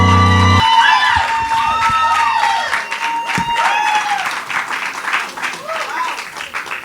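Audience applause with cheers and whoops at a talk on social media influencers and purpose, a loud crowd burst that carries on steadily with voices shouting over the clapping.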